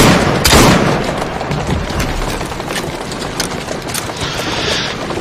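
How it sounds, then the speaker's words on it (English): Lightning shotgun gunfire in Assassin's Creed Syndicate during a carriage chase, a loud burst of blasts at the start followed by crackling, clattering action sounds and hoofbeats throughout. "A lightning shotgun."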